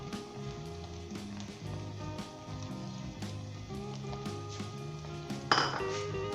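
A metal utensil stirring and clinking against a pan of Punjabi egg and onion curry, with light scraping taps repeating irregularly over soft background music and a brighter clink near the end.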